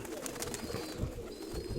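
Soft pigeon cooing repeats over a steady background hum, low and moderately close, with no voices.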